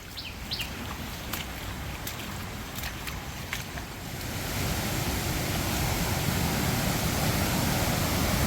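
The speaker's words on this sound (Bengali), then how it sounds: "আমরা এখন ঝর্ণার পাশেই অবস্থান করতেছি" Rushing water at the Banshbaria Bilashi waterfall in Sitakunda makes a broad, steady roar that grows louder and fuller after a few seconds, with faint bird chirps early on.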